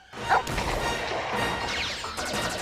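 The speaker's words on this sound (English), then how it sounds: "This is the dog, Lupus. He's a big leaper." A dog in a Nintendo 3D video game barks in a few quick yips amid busy game effects and crashes, moderately loud.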